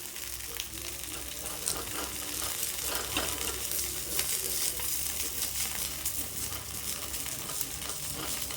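Onion rava dosa sizzling steadily in a hot pan, a dense continuous crackle and hiss of batter frying throughout, close and fairly loud with no talking.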